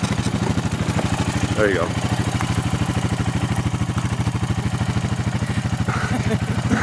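A small engine idles steadily with a fast, even putter at a caribou hunting spot, given a little throttle, running continuously up close while a person speaks briefly over it.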